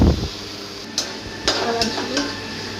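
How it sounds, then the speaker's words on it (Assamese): Boiled potatoes frying with dried spices in a pan for an Assamese fish curry, with a soft sizzle under a few crisp metallic clicks and scrapes of a spatula stirring, close and moderate. "আলুখিনি দি প্ৰায় 2 বা 3 মিনিট সময় ফ্ৰাই কৰিম"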